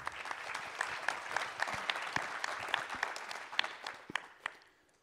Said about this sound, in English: Let's give a round of applause to Leon